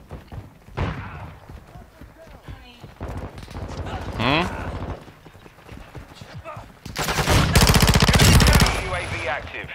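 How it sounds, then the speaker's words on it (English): Automatic gunfire in Call of Duty, with bursts of rapid shots and a long sustained volley toward the end, mixed with game effects and voices talking. "Casually shooting their teammate."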